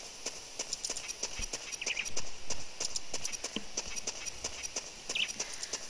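Epona, the horse in the video game Zelda Ocarina of Time, walks with a steady run of crisp, light hoof clip-clops, moderately quiet, over a soft game background.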